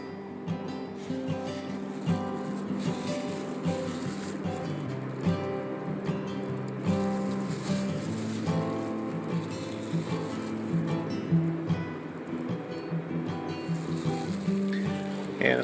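A box fan in a DIY workshop filter box blows a steady, broad whoosh of air with a faint motor hum, continuous and fairly close for the whole stretch.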